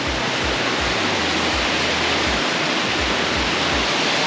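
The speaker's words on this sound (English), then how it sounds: "It's got this insane waterfall running down here." A powerful waterfall on the CLIMIES Track pours down continuously, a loud, steady broadband roar of rushing water close by with no talking.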